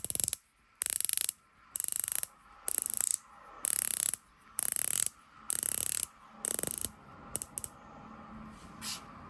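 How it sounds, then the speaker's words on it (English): A 120-click rotating dive-watch bezel turned in repeated bursts of rapid, crisp ratcheting clicks, about eight runs separated by short pauses, very close and alone. "The bezel is 120 clicks, very positive clicks."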